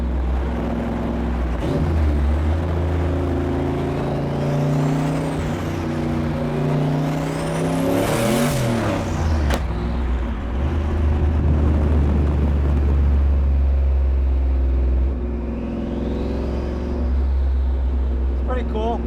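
A Corvette rolls along an unpaved road, its engine a steady low drone with rising and falling harmonics and gravelly road noise throughout, loud and close.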